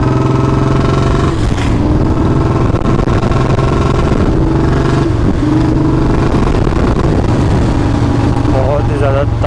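A BS4 Bullet 350 motorcycle fitted with a C-bend exhaust pipe and long punj revs lightly, its low rumbling thump rising slightly, loud and close, with someone talking over it.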